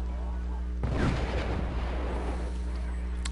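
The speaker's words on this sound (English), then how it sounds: "now I'm shelling his artillery again, finally" Artillery shelling in the Wargame strategy video game: a sudden heavy boom strikes, then rumbling, crackling impacts trail off over a steady low background hum.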